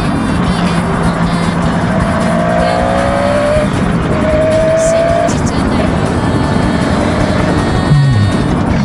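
A Kawasaki 500SS Mach III two-stroke motorcycle is ridden and turned right, its engine a loud, continuous buzzing drone with a short rise in pitch, recorded up close alongside wind rush.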